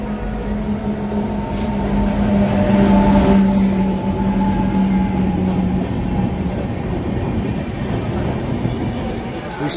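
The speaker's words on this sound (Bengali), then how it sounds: "ট্রেন আসছে 2 নম্বর প্ল্যাটফর্মে" Train arriving at a railway platform at Durgapur station, a loud continuous rumble of wheels and carriages rolling in, swelling midway with a sustained humming tone, with crowd voices mixed in.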